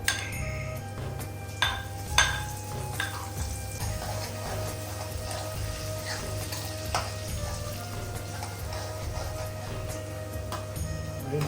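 Spice paste sizzles loudly in hot oil in a kadai, a constant close frying hiss with a few sharp clinks of utensils against the pan near the start.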